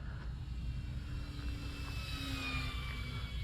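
An electric E-flite RV-7 RC sport airplane on a 4S 2200 battery flies past, its propeller whine pitching down as it passes overhead, steady and moderately faint over outdoor background noise.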